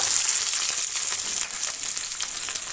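Small chopped shallots roast in hot oil in a pan for fish curry, giving a loud, close, continuous crackling sizzle with bright hissy texture throughout.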